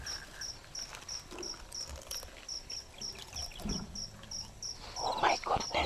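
Crickets chirping at night beside a cornfield, a regular rapid pulsing trill repeating steadily throughout, moderately near, with faint rustles and a few soft knocks underneath and some brief background noises toward the end.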